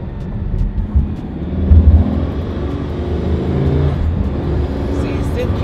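Hermes Pagani supercar engine pulling hard as it accelerates, a loud rising roar close by that swells and holds, with talk over it.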